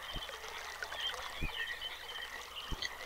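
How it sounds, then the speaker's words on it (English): Water flowing through pipes in the video game realMyst: a faint, steady trickling rush with a few soft low thumps spaced about a second apart. "So now we've got water flowing along the pipes."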